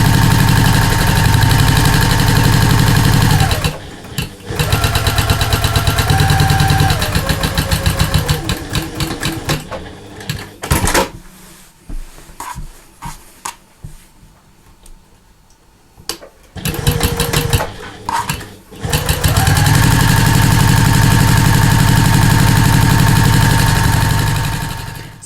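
A sewing machine stitching diagonal quilting lines across a quilted mat: a loud, steady, fast motor drone that runs in long stretches, broken in the middle by pauses and short irregular bursts before the run resumes.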